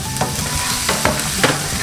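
Vegetables cook in a hot pan with a constant close sizzle, punctuated by a few quick stirring scrapes.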